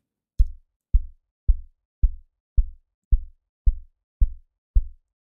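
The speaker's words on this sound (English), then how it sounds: "So I'll be starting with my kick here." Kick drum sample in FL Studio, a deep booming low thump repeated nine times at an even, steady pace, each hit punchy with a quick decaying tail, heard alone with no talking.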